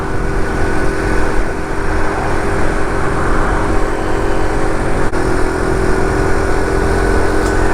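A SYM Symba step-through motorcycle, a Honda Cub replica, riding along a country road, its small engine giving a loud, steady drone with rushing wind noise that barely changes and no voices.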